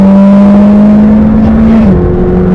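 Supercar accelerating hard down the straight of the Silverstone track, with a loud, close engine drone that holds steady before a shift drops its pitch near the end.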